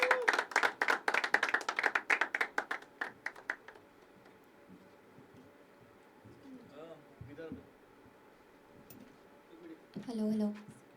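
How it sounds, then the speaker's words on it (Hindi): Audience clapping at an evening poetry open mic at The Habitat, a burst of rhythmic, fairly close hand claps that fades out within about four seconds, leaving quiet room noise with faint speech and a brief clatter. "जब तक स्टेज पे नहीं तब तक तालियां बजाते रहेंगी।"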